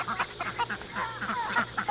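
Backyard baby chicks and hens crowd together at night feeding time, a steady chorus of overlapping peeps and clucks close by, busy and continuous with soft squawks rising throughout.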